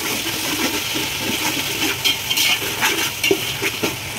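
Tomatoes are stirred into a sizzling chicken pulao base in a pot, with a close, steady hiss of frying and irregular scraping and stirring scrapes, no voices.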